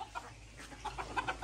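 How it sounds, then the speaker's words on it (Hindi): Desi chickens cluck in short repeated bursts outdoors on a farm alongside rabbits, the soft clucks coming in a loose rhythm over a low background hum, with no talking. "और ये हमारे देसी मुर्गे"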